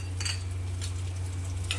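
Chopped onion and cumin sauté in a pan for a garlic chutney. A steady, soft sizzle runs throughout, with a few light clinks and stirring scrapes over a low background hum.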